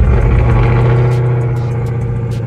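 Dodge Charger Hellcat Daytona with 40,000 miles and a check engine light on, its engine running at a high idle, a loud close steady rumble with no talk.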